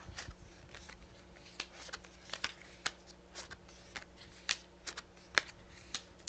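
Tarot cards, a Light Seer's Tarot deck, being handled and shuffled at close range, with a run of soft, quiet, irregular riffling clicks and slaps and no talk.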